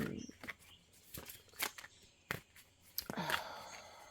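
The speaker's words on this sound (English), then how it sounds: "you guys heard me shuffling" Tarot cards being shuffled by hand, with quiet intermittent riffling bursts and soft slaps spaced across the stretch, faint and close.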